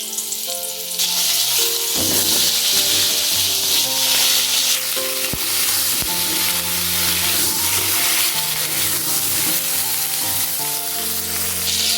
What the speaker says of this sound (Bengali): ওই তেলেই কেটে রাখা পটলগুলো দিয়ে ভেজে নিচ্ছি।